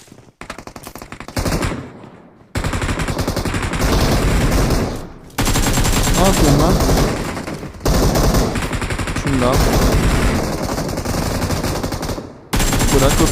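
Video game gunfire rattles in long, rapid automatic bursts, loud and close, with brief pauses between volleys and some game sounds mixed in.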